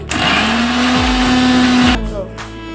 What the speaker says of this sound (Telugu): ఇవన్నీ కలిపి మిక్సీ వేసుకుంటున్నానండి